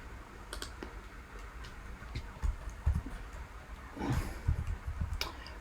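Sharp, scattered computer clicks and key taps on a computer during a crypto sell order, faint and irregular, some coming in short clusters.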